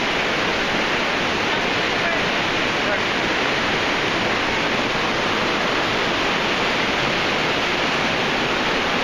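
Waterfalls among rocks and trees in a huge park pour with a constant, dense roar of rushing water, loud and unbroken throughout.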